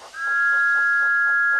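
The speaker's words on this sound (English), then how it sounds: "And he whistled as loudly as he could." A loud, steady steam engine whistle blows as a single sustained high tone for over a second, close and alone, with a faint rhythmic chuffing beneath it in a Thomas & Friends story.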